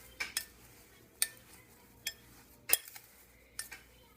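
Monkey bread dough pieces being stirred in sugar in a pan, heard as a handful of sharp, scattered clinks and scrapes at irregular intervals, fairly close and quiet, with no talking.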